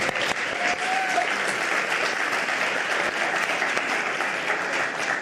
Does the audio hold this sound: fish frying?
no